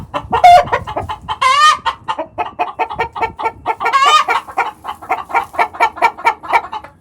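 Several chickens cluck and squawk close by in a barnyard, with a couple of louder drawn-out cackles rising above steady clucking throughout.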